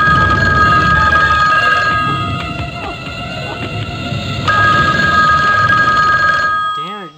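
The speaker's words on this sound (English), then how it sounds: "Damn, that phone's loud." A telephone in a horror video game rings loudly with a continuous electronic trill that persists for several seconds before cutting off abruptly.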